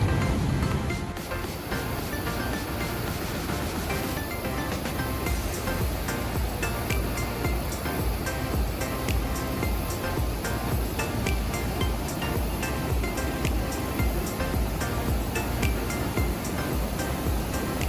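Loud, steady roar of rushing water at Niagara Falls, New York, broadband and continuous throughout, like powerful rapids and falls pouring close by.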